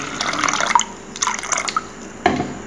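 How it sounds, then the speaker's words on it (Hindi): Water poured from a vessel into a cooking pot of chickpeas set to boil, heard as a few separate splashing pours with short pauses between them, close and fairly loud, with no talking. "तो हम चने को इसे डाल देते हैं और फिर इसमें हम पानी डालेंगे।"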